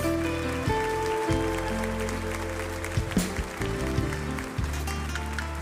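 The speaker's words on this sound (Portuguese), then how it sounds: "Você pode aplaudir ao Senhor" A church congregation applauds through a sustained stretch of worship music, the clapping spread and mid-distance with the instruments holding steady underneath.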